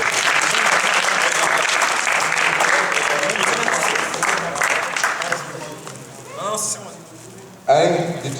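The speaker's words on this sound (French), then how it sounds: "On les applaudit pour leur belle latte." Audience at a LAN gaming event prize ceremony clapping for the winners, dense, loud applause that fades away, then voices and a brief burst of cheering.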